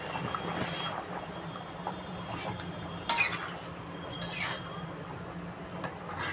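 A metal lid is set onto a cooking pot of potato and papaya curry, giving one sharp clink amid quiet kitchen clatter and soft scraping.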